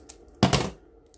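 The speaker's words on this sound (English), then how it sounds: "My sellotape is quite wide, so I'm just going to cut this in half." A single short snip of scissors cutting through a strip of wide sellotape, a brief crisp burst that fades quickly in an otherwise quiet room.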